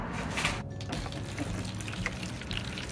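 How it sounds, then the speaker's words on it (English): Water poured into a seed tray filled with peat moss for starting vegetable seeds indoors: a soft, continuous trickle and splash, faint and close, running throughout. "Add water down here."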